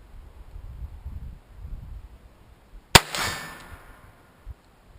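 A single sharp report from a Ruger 22/45 pistol firing CCI .22 ammunition, one loud crack with a brief ringing decay, preceded by quiet outdoor background and nothing else.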